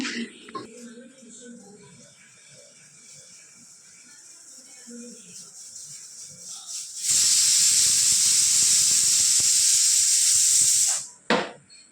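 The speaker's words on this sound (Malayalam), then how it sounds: "രണ്ട് വിസിലായപ്പോൾ ഞാൻ ഓഫാക്കി ഇട്ടാ പിന്നെ ആവി പോട്ടെ" Quiet talk and small noises, then a loud, sharp hiss of steam bursts out of a pressure cooker after two whistles and blasts steadily for several seconds before cutting off.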